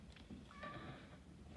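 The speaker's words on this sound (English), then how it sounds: "Sorry about the cat." A single faint meow from a cat a short distance away, brief and thin against a low, steady background hum.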